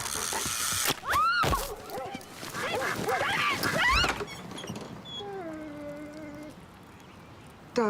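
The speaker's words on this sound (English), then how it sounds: "Ducks. Ducks." Ducks quacking in a short, loud burst of calls up close, with scattered thumps and a soft voice briefly heard among them.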